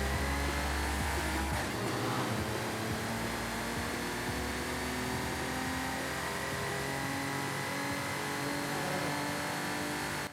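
A stock 1982 DMC DeLorean in Forza Horizon 5 revs its engine in a steady, loud drone that holds for about ten seconds, with a brief throttle blip near the start and no voices.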